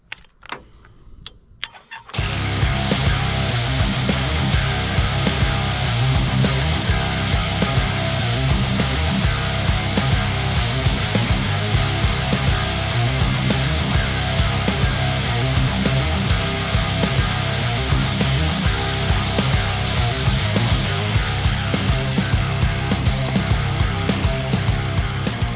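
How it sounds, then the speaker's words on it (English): Lawn mower blade being sharpened at a 30-degree angle with a power grinder, a loud continuous whirring grind that starts after a brief quiet moment and runs steadily without talk. "I'm gonna show you a little bit of sharpening"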